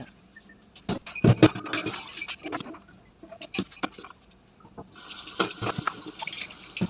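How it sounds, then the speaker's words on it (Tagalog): Two eggs whisked in a bowl, a fast clattering patter of utensil against the bowl with clinks, close and fairly loud, in bursts with brief pauses. "Babatiin po natin yung dalawang itlog."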